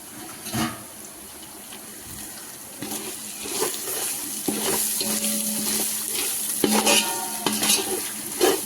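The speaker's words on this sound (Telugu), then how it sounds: "దీంట్లోనే ఒక 1/2 spoon గరం మసాలా పౌడర్ వేసేసి ఫ్రై చేసుకోవాలి." Mutton keema frying with garam masala in a pan, a steady sizzle with scraping stirs and occasional clinks of a spoon against metal, close and continuous with no voices.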